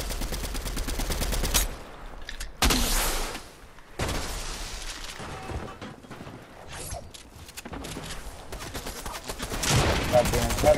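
Gunfire in the video game Fortnite comes in loud bursts of rapid shots and fusillades with short quiet gaps between them, while a voice talks over parts of it.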